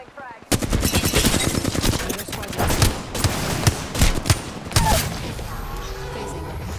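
Rapid bursts of automatic gunfire in a video game battle royale match, loud and close, with a dense opening volley followed by several shorter bursts and single heavy shots.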